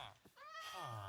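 A Minecraft cat meows in the video game, one rising and falling mew near the start and another drawn-out one at the end, with a person talking over it.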